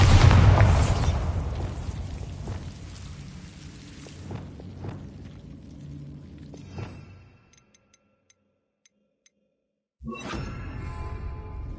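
Bombarda explosion spell in a Hogwarts game, a loud blast at the start with a crackling rumble that fades over several seconds into near silence, then another burst of sound at the end.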